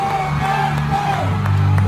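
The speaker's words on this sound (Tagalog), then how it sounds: "sigaw ng mga tao" A crowd at a Duterte political gathering shouts and cheers in a sustained, dense roar that swells slightly toward the end.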